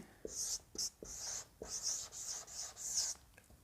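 Marker or chalk writing on a board during a spoken English lesson: a series of close, scratchy strokes of varying length with short pauses between them, and no talking.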